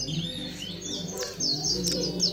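A kacer, or magpie-robin, sings in quick bright chirps and sliding whistles, close and fairly soft, with no talking.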